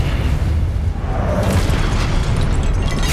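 Expelliarmus spell blast in the video game Hogwarts Legacy, a booming burst that swells midway into a bright whooshing surge, loud and alone.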